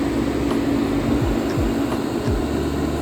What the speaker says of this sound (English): As you can see, the fan started.